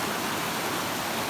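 Water gushing on the way up a mountain trail, a loud, steady broadband rush like a waterfall or fast stream, close and continuous with no break and no talk.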